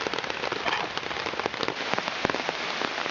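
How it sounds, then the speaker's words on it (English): Steady rain pattering outdoors in the wild, a dense wash of drops striking surfaces close by, with scattered louder drips standing out; no voices. "it's a bit rainy today"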